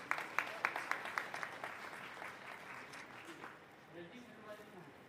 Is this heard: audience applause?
yes